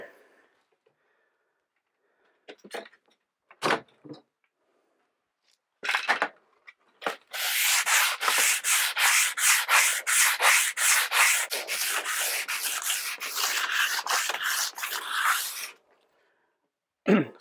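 Mountain ski base sanded by hand with 150-grit sandpaper: a long run of quick, rhythmic rasping strokes, close and steady, preceded by a few scattered rubs and handling noises.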